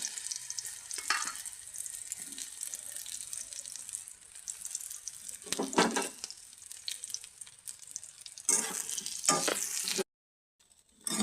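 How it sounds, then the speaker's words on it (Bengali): Soybean chunks frying lightly in oil in a pan, a steady close sizzle broken by louder bursts of stirring and hissing, ending in a brief silence and then a final burst. "এই যে সয়াবিনটা হালকা ভাজা করে নিয়ে নিচ্ছি।"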